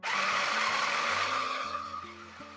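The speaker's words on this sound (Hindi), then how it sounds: "इसको क्या बोलते हैं, चॉपर आता है। तो इसके अंदर इसको ऐसे डालेंगे और इसको चॉप कर" Small electric food chopper whirring loudly on ginger and onion for about two seconds, a steady motor buzz that starts abruptly and then fades slightly toward the end, with no voices.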